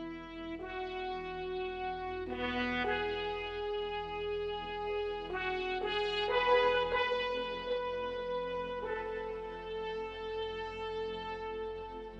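Korg Pa5X arranger keyboard playing an orchestral freestyle rhythm style in the manner of the opening of Out of Africa: sustained, swelling orchestral chords that shift every few seconds, steady and moderately loud with no talking.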